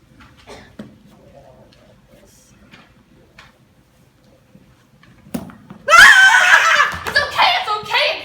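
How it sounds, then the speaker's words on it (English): A child actor screams loudly and shrilly in a school stage play, a sudden burst following several seconds of quiet stage noise and faint voices. "Why are you screaming?"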